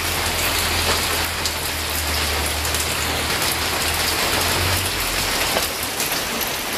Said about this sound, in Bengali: আজকে দেখো সারাটা দিন ধরে বৃষ্টি চলছিল